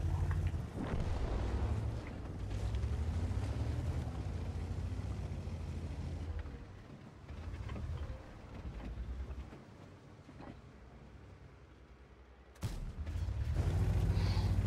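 Heavy booming blasts from tank guns in the World of Tanks video game, a loud report near the start and another sharp burst near the end, over a constant rumbling engine and battle drone.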